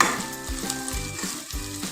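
Tadka frying for Punjabi-style saag, a loud close sizzle with rhythmic scraping strokes of a spoon through the pan, with no voices.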